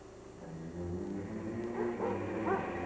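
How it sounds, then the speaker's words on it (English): A sled dog barks and yips amid a raging blizzard, a story sound effect with several sharp barks rising over a steady roar of wind and low rumble, growing louder toward the end. "he was trying out a new lead dog, an untried dog named Balto"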